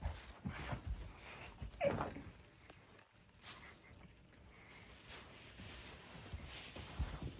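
A dog gives faint, soft whimpers and small whines with a new toy, in short scattered bursts over a quiet indoor background.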